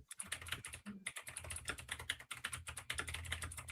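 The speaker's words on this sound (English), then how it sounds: "I can hear you typing, Ancom." Rapid, steady typing on a computer keyboard, close and clear, with a continuous patter of key clicks and only a brief pause.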